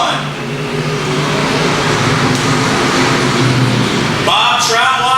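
Dirt track race cars racing at Heartland Park Topeka, a loud sustained roar of several engines heard from trackside, with crowd and track noise mixed in and a shift in tone near the end.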